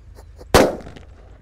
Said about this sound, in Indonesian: yang kita nyalakan di sini ada disco happy flower lap-lap door. Ini kita nyalakan di dalam tanah.